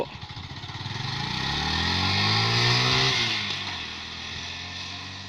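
A Honda MSX motorcycle pulls away after a gear shift, its small engine rising steadily in pitch as it accelerates, loud and close at first and then easing off as it moves away.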